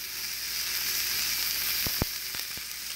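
A raw steak searing in a smoking-hot pan gives a loud, steady broadband sizzle, broken by a few sharp pops and spatters near the end.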